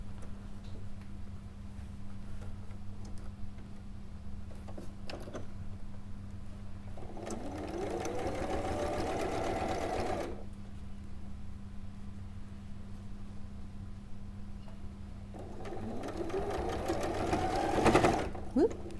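Sewing machine stitching quilt pieces together, two separate bursts of whirring motor with rising pitch between quiet stretches, a voice talking softly around them.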